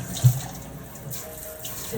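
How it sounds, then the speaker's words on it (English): Water runs from a tap while a sprayer is washed at a sink, a steady close hiss and splash with a brief louder gurgle near the start. "you want to wash your sprayer too, because you'd be surprised at all the junk and germs that get inside a sprayer"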